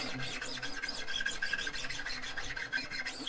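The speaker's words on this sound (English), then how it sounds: "or that dullness off string just by steel wooling it a little bit" Steel wool rubbed along the rusty, dull strings of a Stagg SW-201-3/4 N guitar, giving a steady close-up rasping scrub with repeated back-and-forth strokes and no talking.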